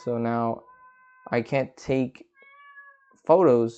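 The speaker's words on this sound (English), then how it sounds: "that is my cat trying to get into my room." A cat meows repeatedly while trying to get into a room, with several clear, drawn-out calls sounding close and loud between stretches of someone talking.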